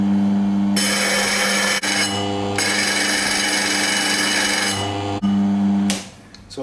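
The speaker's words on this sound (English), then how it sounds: "Turn it on, sharpen the blade for 30 seconds" An electric meat slicer whirs steadily while its built-in stone sharpens the spinning blade, the grinding hiss rising and dropping in a few bursts over a constant motor hum.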